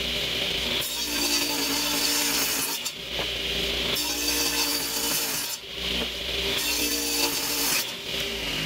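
A saw grinds through dense peach wood in long, steady strokes with brief pauses between passes, loud and close with no talking.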